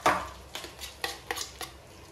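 A spoon scraping and clanking in a pan as tomatoes, chilli and other burger filling are stirred together, a few distinct knocks spaced about half a second apart, close and fairly quiet.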